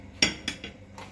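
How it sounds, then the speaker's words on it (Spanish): A metal frying pan set down on a kitchen stove, with a sharp clank followed by three lighter metallic knocks and rattles within about a second, close up and with no talk. "vamos a poner nuestra sartén al fuego"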